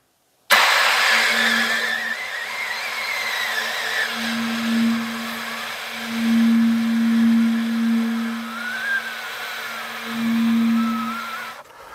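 A saxophone played close to the bell microphone in a soft subtone gives a breathy, airy rush of wind with a thin, faint pitched tone swelling in and out underneath for about eleven seconds.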